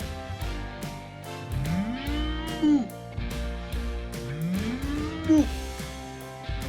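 A cow lows twice, each moo a drawn-out rising call about a second long, fairly close, over a background of light clicks and room noise.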